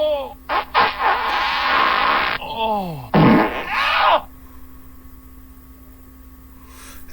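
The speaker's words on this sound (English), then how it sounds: "Groaning fart sound effect." A groaning fart sound effect, a series of loud, close, drawn-out buzzy blasts with wavering pitch, broken by a short gap and then a final burst, followed by a quieter hum.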